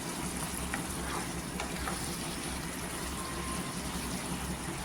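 Washed vakti fish, sprinkled with lemon juice, is mixed into hot masala in a pan: a loud, steady sizzle and frying crackle runs throughout, with occasional stirring scrapes audible close up.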